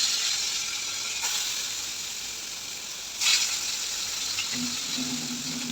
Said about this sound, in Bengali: সরিষার তেল দিয়েই মাছগুলো একটু ভালো করে ভেজে নিচ্ছি লাল লাল করে